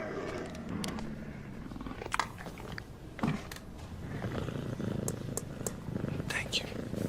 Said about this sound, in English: It's a puma.